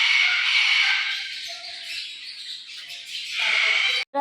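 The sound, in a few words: cockatoos screeching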